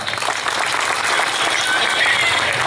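An audience applauds after a tabla and pakhawaj jugalbandi performance, a fairly loud and steady wash of clapping, with voices mixed in beneath it.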